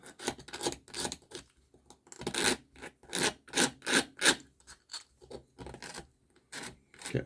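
Repeated rasping strokes of a file scraping ridges from the edges of a 3D-printed GoPro Hero 7 lens cap, about a dozen short, uneven back-and-forth scrapes, close up with brief pauses between bursts and no talking.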